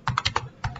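Several quick keystrokes on a computer keyboard while entering terminal commands, clicking in a short burst of four taps, a pause, then two more, close and clear with no talk.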